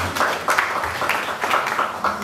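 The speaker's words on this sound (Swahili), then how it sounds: "Mwapigieni makofi jamani" Scattered applause from a church congregation during a Sunday service, with several bursts of clapping rising and falling over a couple of seconds, fairly close and lively.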